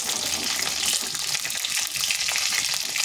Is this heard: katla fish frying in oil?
yes